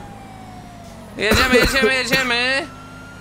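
Police sirens in the online game GTA FiveM sound in a loud wailing burst of about a second and a half, rising over a quieter engine-like background, with someone speaking briefly.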